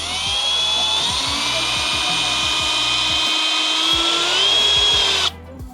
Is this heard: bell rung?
no